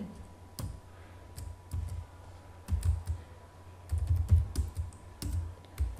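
A computer keyboard is used to type a spanning-tree command into network switch configuration: quick bursts of close, crisp keystroke clicks with short pauses between groups, and no talk.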